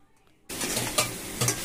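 Turmeric and dried red chilli sautéing in a pan for a Bengali hilsa fish curry with potato and green banana, starting after a brief hush as a loud, close sizzle with two scraping stirs.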